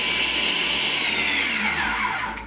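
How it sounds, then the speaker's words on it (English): A food processor whizzes pastry mixture, a loud, close motor whine that holds steady then slowly drops in pitch as the blades spin down at the end. "Using this processor just saves so much hard work, to be honest. And we're going to whiz this up."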